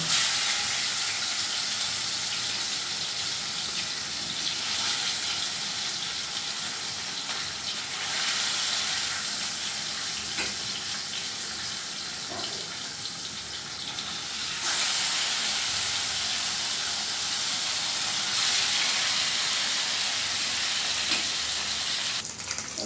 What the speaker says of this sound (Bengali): এবার এই নুন হলুদ মাখানো মাছগুলো আস্তে আস্তে তেলের মধ্যে দিয়ে মাছগুলো প্রথমে ভেজে নেব